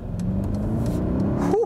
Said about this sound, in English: They've done a good job with this V8. It sounds great.